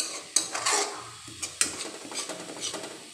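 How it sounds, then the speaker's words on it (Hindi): A spoon stirs masala frying in oil in a pan for a shahi soyabean dish: scraping strokes against the metal over a steady sizzle, close up, with no voices. "इसे बस एक आपको काम करना है, इसे चलाते रहना है बराबर जब तक कि मसाले हमारे अच्छे से भुन ना जाए।"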